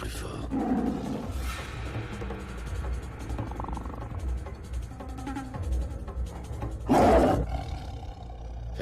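A tiger roars in a film scene: deep, growling roars rise and fall over several seconds, with a sharp, loud roar burst near the end, heard alongside background sound and brief speech.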